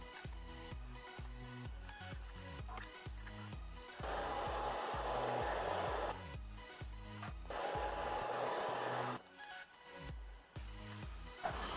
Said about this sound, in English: you want to keep heating up the vinyl wrap and sort of smoothing it down as you go